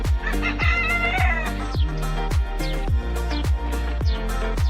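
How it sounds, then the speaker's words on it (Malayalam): Chickens and roosters at a farm in Ras Al Khaimah, UAE, with loud close clucking and a rooster's crow rising over a steady low rumbling hum, no voices. "കോഴികൾ നിർത്താതെ കൂയിക്കൊണ്ടിരിക്കുകയാണ്"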